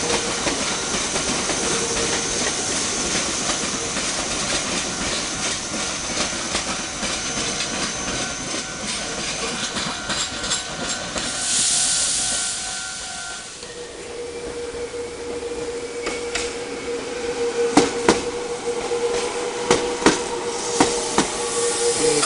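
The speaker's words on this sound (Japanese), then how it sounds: "これは広見線の電車ですね" A Meitetsu Hiromi Line electric train rolls past near a junction of three lines, a sustained loud rumble with hissing and rail clatter, easing partway through before sharp wheel clicks and squeals return toward the end.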